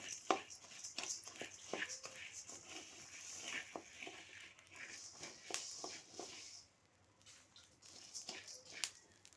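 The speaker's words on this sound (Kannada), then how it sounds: "ನೋಡಿ ಇದನ್ನು ಚಟಪಟ ಅಂತದೆ ನೋಡಿ ಸೌಂಡ್ ಕೇಳಿಸ್ತಾ ಇದೆಯಾ" Spices crackling and popping as they roast in a pan for sambar powder, a quiet, irregular patter of small sharp ticks and light scraping that thins out toward the end.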